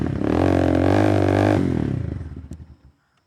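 Super Star 200R 198cc single-cylinder motorcycle engine revved loud and steady for about a second and a half, then dropping back through a fluttering, popping idle before cutting off.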